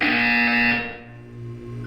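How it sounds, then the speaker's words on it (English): A loud, sustained electronic buzzer from the video game Portal 2 sounds as a bright, harmonically rich tone. It cuts off after under a second, leaving a low residual hum. "When you hear the buzzer, look up at the ceiling."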